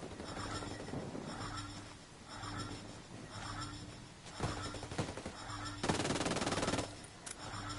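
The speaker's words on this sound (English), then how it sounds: "Shit, taking fire." Gunfire in Ghost Recon Wildlands: quiet background shots give way to louder bursts of automatic fire near the end, over a low steady game ambience.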